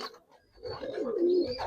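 Pigeons coo in a rising, rolling burst near the end, close and fairly loud, after a quieter start; these are red-eyed and silver Bagha Giribaz pigeons kept by a fancier.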